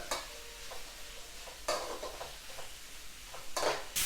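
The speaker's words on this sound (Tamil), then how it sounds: "வெங்காயம், பச்சை மிளகாயெல்லாம் அதில் வந்து ஆட் பண்ணிக்கிறோம். அடி பிடிக்காமல் கிண்டிக்கிட்டே இருக்கலாம்." Onions and green chillies fry in a pan for biryani-style tomato rice while a spoon stirs them, with a soft steady sizzle broken by several scraping, clinking strokes of the utensil against the pan, close and without talk.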